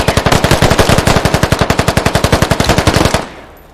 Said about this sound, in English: Oh, there's an LMG.